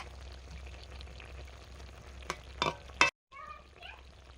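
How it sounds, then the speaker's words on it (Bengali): Fish and eggplant curry bubbles gently in a pan at low level, with a few sharp clinks and stirring knocks near the end, a brief silence, and a short squeaky sound after it. "ঝোল ফুটে গেছে মাছ বেগুন একসঙ্গে দিয়ে দিলাম"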